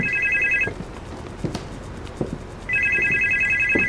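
A telephone rings inside a horror video game, two bursts of a bright electronic trill separated by a short pause, close and loud over quiet room noise.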